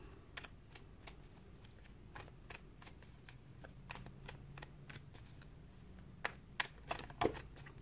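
Tarot cards are shuffled and drawn in a steady run of crisp, close flicks and snaps over a low background rumble, with a few sharper card slaps toward the end and nobody speaking.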